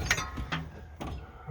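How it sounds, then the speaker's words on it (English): A truck engine is turned over by hand with a wrench, giving a few separate mechanical clicks and ratcheting clunks that sit close and fairly loud, spaced unevenly over a second and a half with no talk. "we'll go ahead and spin it over one more time just to make sure it's right"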